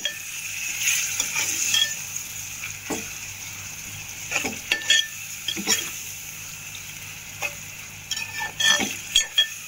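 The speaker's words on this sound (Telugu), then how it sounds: "ఇలా కలుపుకోవాలండి." A spoon scrapes and stirs a potato and lentil curry in a pan over a soft steady sizzle, with light clinks against the metal, close up and without talk.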